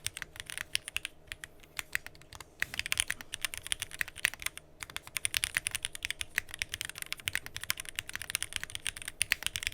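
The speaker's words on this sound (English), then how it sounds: "they're some of my favorite switches, super smooth without any lube, and they're nice and clacky" Steady, rapid typing on a Zoom65 V2.5 keyboard fitted with unlubed Gateron CJ switches, a dense run of crisp, clacky keystrokes close up, with brief pauses between bursts and no voices.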